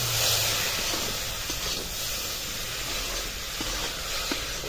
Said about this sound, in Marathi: हे वाटाणे असे घालून घ्यायचे आणि परतून घ्यायचे फोडणी बरोबर